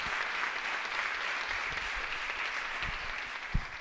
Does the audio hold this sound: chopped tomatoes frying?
no